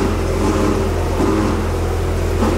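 A tuned sports car with carbon bodywork sits with its engine running, giving a loud, steady, rumbling note with slight irregular pops, and no one talking.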